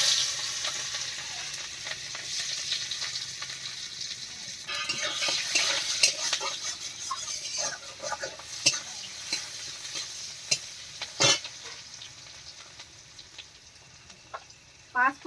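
Dried red chillies, chopped onion and garlic sizzle in a hot wok, a steady frying hiss with scattered clinks and scrapes of a stirring spoon throughout.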